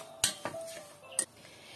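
A spoon stirring haskap berry jam with sugar and lemon juice in a cooking pot, giving three sharp metallic clinks against the pot spread over under two seconds, close and fairly quiet, with no talk.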